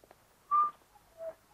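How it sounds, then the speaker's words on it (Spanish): A man whistles two short, soft tones, the first a steady held note and the second lower and sliding, separated by a brief pause in an otherwise quiet scene. "Deje de silbar."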